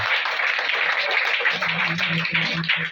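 An audience at a ceremony applauds in praise of God, a thick, steady wash of many hands clapping that turns into a more rhythmic, unified beat toward the end.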